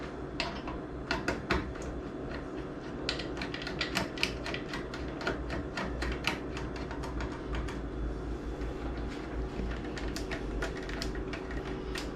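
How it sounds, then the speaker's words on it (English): Screws being driven in while reassembling a UPS-damaged MidNite Solar Rosie inverter, heard as a steady run of sharp, close mechanical clicks and ticks over a continuous low hum, with no talking. "And then we just put in a bunch of these screws."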